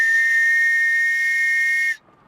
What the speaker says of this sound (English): Why do you keep playing with my whistle?